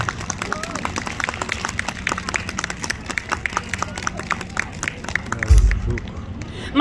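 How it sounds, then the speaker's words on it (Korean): Audience clapping at a live French chanson concert, a dense and steady patter of many hands that carries on throughout over a low crowd murmur, with a heavy thump close by near the end. "박수와 함께 청해 듣도록 하겠습니다"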